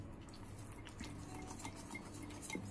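Gram flour and yogurt are stirred together in a mixing bowl for khandvi batter, giving soft, faint, wet scraping and clinking at close range with no talking.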